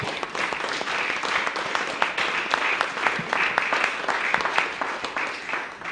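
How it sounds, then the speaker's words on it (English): At a county freeholders presentation, an audience claps in steady, moderately loud applause for about six seconds. Individual hand claps stand out within the continuous roar. "That deserves a round of applause."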